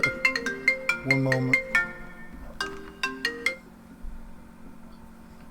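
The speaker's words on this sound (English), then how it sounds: "I'm getting a phone call" A phone ringtone plays as bright, chiming melodic notes in a quick repeating phrase, pauses, then starts again; a voice speaks briefly over it.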